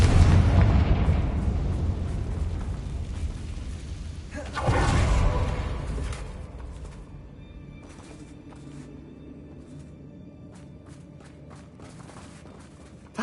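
A Confringo fire spell explodes in the Hogwarts Legacy video game, a loud booming burst near the middle that rolls into a fading rumble, over ongoing game ambience and scattered clatter.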